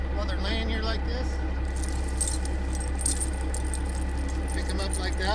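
Metal tire chains jangle and rattle as they are picked up and handled by the center rail beside a steadily idling vehicle engine, with someone talking over them.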